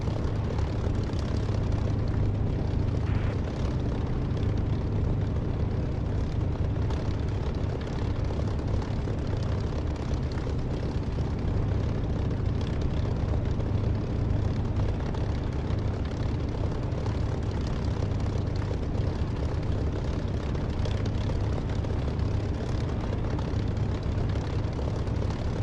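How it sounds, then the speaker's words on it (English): An aircraft in the DCS flight simulator game sits with its rotor blade spinning down, giving a loud, continuous engine drone with a steady low hum throughout and no speech. "I've got to wait for that blade to stop completely"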